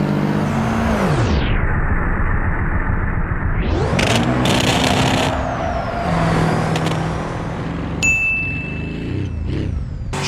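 A Porsche 911 in the BeamNG.drive driving game roars loudly as its engine revs climb and drop through shifts, mixed with heavy truck-like rumble, a hiss like an air brake and a brief electronic ding.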